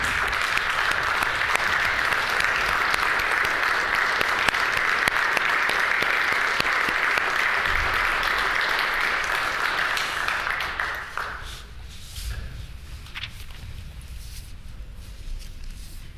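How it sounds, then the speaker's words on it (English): Sustained applause fills a legislative chamber, a steady dense clatter of many hands for about eleven seconds before tapering off into quieter room noise and scattered shuffling. "Let's give him applause."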